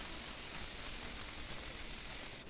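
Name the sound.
ginger garlic paste sizzling in hot oil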